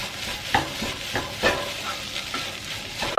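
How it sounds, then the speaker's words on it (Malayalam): Garam masala roasting in a pan for broken wheat fried rice, a spoon scraping and stirring in repeated strokes over a low sizzle, close and moderately loud. "ഗരം മസാല ചേർത്ത് കൊടുക്കാം. നല്ല ഒന്ന് മൂപ്പിച്ചെടുക്കണേ."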